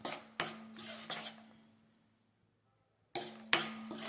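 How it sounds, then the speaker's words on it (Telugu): Jaggery syrup is stirred in a pan with a metal spoon, a few scraping clinks in quick succession, a short pause of near silence, then two more scrapes, close and fairly quiet. "పాకం వచ్చేదాకా కలుపుతూనే ఉండాలి ఫ్రెండ్స్"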